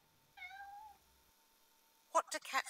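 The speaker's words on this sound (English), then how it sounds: "A cat says, meow, correct." A single cat meows once, clear and close, then fades into a pause before a few short bursts of other sound at the end.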